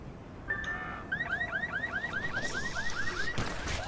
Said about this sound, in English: trigger alarms.